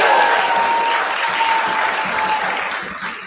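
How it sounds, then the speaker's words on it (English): Audience applauding at the final pitch event of a youth entrepreneurial program, a steady dense clapping that fills the room for several seconds and slowly eases off. "let's give him a round of applause"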